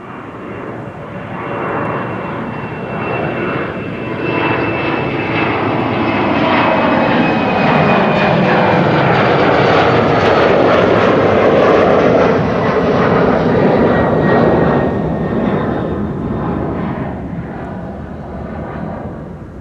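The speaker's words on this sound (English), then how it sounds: "KLM flight 927 to Edinburgh on its way." A KLM airliner departs Amsterdam Schiphol for Edinburgh, its engines building into a loud, sustained roar that swells toward the middle and slowly eases as it climbs away, with no voices.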